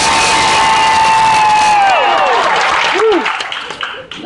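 A studio audience on a live daytime talk show bursts into applause, cheering and whoops, a loud sustained roar with a voice holding a long yell before it tapers off.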